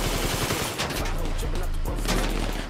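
Gunfire in a drive-by shootout in GTA Online, a dense, loud burst of rapid overlapping shots filling the whole moment without a break.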